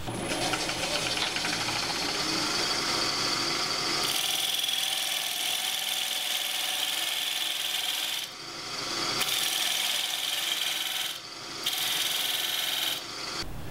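Elm wood spins on a lathe as tenons are cut, giving a continuous bright, hissing rasp of the tool on the workpiece, loud and close, with brief pauses and changes in tone as the cut shifts.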